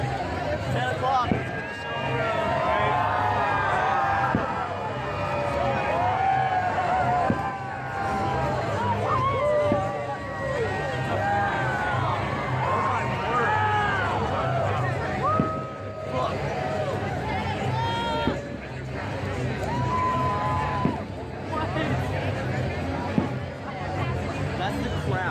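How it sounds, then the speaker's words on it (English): A large crowd roars and cheers at night at an amusement park coaster announcement after fireworks, a loud sustained hubbub with voices shouting and talking nearby throughout. "That's the crowd. It's like a freaking rock concert."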